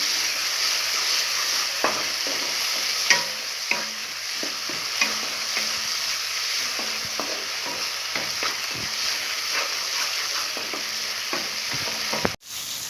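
Spice powders sizzle in hot oil with cooked tomatoes for a kappa masala, while a spoon scrapes and stirs the pan in a steady run of clicks. Frying hiss stays loud and continuous throughout, with no talking.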